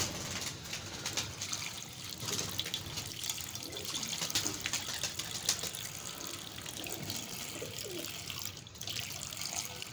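Water pours and splashes steadily for several seconds, a continuous hissing flow close by, with faint bird sounds in the background.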